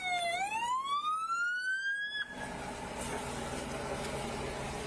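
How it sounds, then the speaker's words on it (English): A police car siren wails in a single rising sweep, then cuts off abruptly and leaves a steady engine and road rumble behind it. "Get the siren off!"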